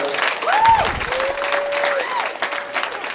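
Applause from a crowd at a bowling tournament, a steady wash of clapping with a few whistles cutting through.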